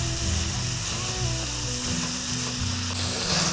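80-20 ground chuck browning in a pot, a loud, dense and continuous sizzle heard close up with a steady crackle throughout and no voices.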